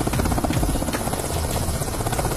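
A helicopter flying, with a steady loud rotor chop and engine roar that stays constant and close throughout.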